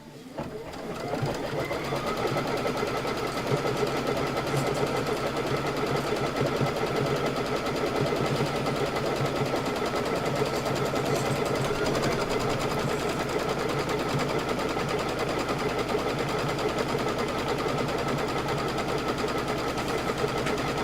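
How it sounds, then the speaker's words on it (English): An embroidery sewing machine stitches a piecing template onto quilt batting for a pillow, a steady rapid mechanical whir running continuously and close at hand without pause. "So go ahead and stitch your piecing template right on top of the batting."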